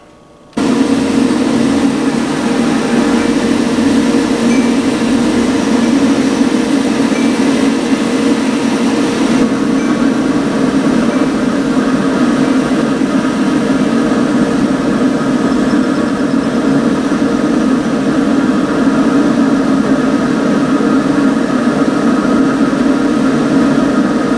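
A steady, loud mechanical roar with a low rumbling hum runs without a break from a pellet grill heating up close, its fan driving the fire.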